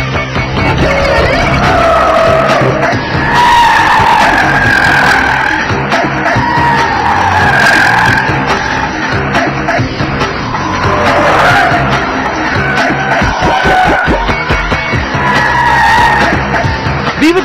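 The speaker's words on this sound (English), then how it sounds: "We were driving on a very fine edge, balancing the cars on the very limit and stepping over it every once in a while." Several cars pushed to the limit on hot laps, tires skidding and squealing in long wavering screeches over loud, continuous engine roar, with no talking.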